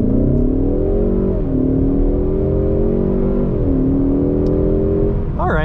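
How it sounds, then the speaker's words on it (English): A 2021-2022 Ford Mustang EcoBoost accelerates hard in sport track mode, its engine note loud and close as the revs climb steadily, dipping briefly at two gear shifts before rising again, with no voices over it. "Let's actually do a pretty decent acceleration."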